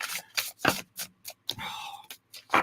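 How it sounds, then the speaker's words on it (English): A new matte-finish tarot card deck being shuffled close up, giving a series of quick papery riffles and soft slaps in irregular bursts, with one longer whirring riffle in the middle. "It's such a pleasure to shuffle this."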